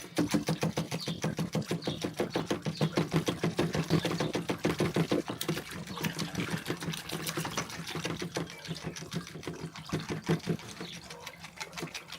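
A jiggle siphon hose is shaken rapidly to start water transferring between containers, giving a fast, steady rattling rhythm with faint liquid sloshing, sustained and close up with no talking.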